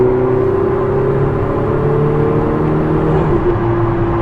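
A Ferrari 488 Spider twin-turbo engine pulls steadily under hard acceleration in its sharper drive mode, a loud, continuous rising drone with no voices over it.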